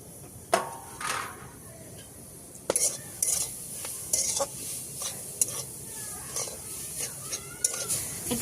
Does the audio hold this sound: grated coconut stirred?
yes